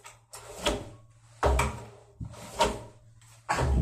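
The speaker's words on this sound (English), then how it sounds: "I ripped my door handle off now." A door handle being ripped off a door fitted with a door closer, heard as several loud, close wooden clunks and rattles spaced about a second apart.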